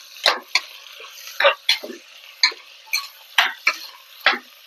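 Onions sautéing for seeraga samba chicken biryani, heard as a series of sharp, rhythmic spatula scrapes and taps against the pan with a faint sizzle underneath, close and fairly loud, with no talk.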